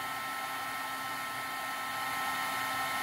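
A heat embossing tool runs with a steady, even whoosh of broadband blowing noise, continuous and fairly close, with no talking.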